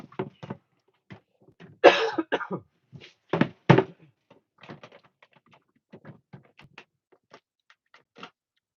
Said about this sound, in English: I seriously cannot stop coughing.